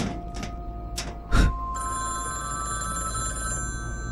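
A telephone rings with a steady, continuous electronic trill that begins after a few short knocks and a thump, with no talk over it.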